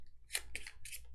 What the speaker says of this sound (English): we need to shuffle this action deck.